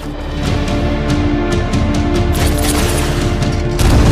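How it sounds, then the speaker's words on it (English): In the video game Just Cause 3, Hydra missiles strike a bridge in a loud, continuous barrage of booming blasts and crackling explosions that builds in intensity, with no speech. "we're going man versus bridge with our super powerful Hydra missiles and see what kind of damage we can cause"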